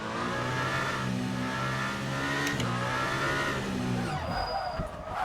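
A race car in the Le Mans Ultimate sim holds a loud, steady engine tone as its rear tyres spin up, the pitch shifting and a thin squeal emerging toward the end.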